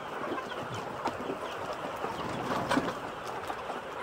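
RTL hens in a farm pen cluck and murmur steadily while waiting to be fed, a dense flock chorus with a few sharper calls rising above the background and no talking.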